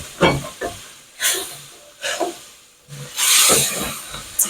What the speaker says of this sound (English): We're deglazing the pan.